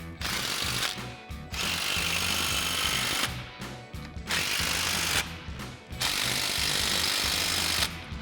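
Impact wrench with a 14 mm socket tightening U-bolts on a 2011-2024 Ford F-250, four loud sustained bursts of rapid hammering separated by short pauses, close by.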